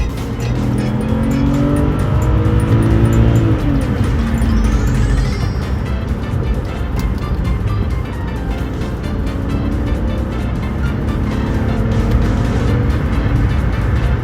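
BMW 5 Series car accelerating hard and driving fast, with a loud, steady engine roar and road noise throughout and a brief rising tire squeal near the start.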